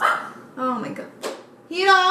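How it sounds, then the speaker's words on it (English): A pet dog barks and yips a few times indoors, short sharp bursts close by, interleaved with someone talking. "Excuse my dog."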